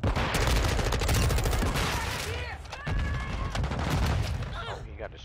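Gunfire in a Call of Duty MWII multiplayer match, dense loud bursts of shots and booms with a grenade blast in the mix, continuous and close, with voices and electronic tones over the top.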